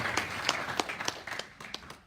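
A church congregation claps in a brief, fairly faint burst of scattered individual claps, heard alone without talk.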